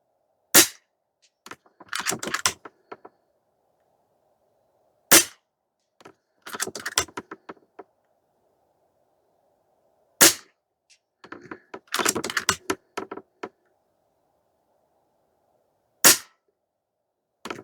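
Several sharp, close cracks come at intervals from an Air Venturi Avenge-X .22 caliber airgun fired outdoors. Clusters of mechanical clicks follow each shot as the gun is cycled.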